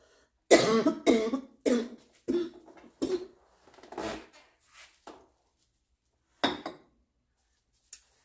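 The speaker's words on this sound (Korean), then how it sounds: "제가 이렇게 막 기침 나오고 막 창기가 올라오고" A series of harsh, phlegmy coughs from one person during a Saturday praise service at a church, coming in short separate bursts with pauses between them, fairly close and loud, with no talking.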